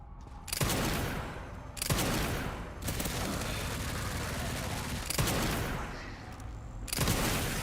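Rapid gunfire in a first-person shooter game, bursts of shots starting and stopping in several loud clusters with a steady background of game noise between them.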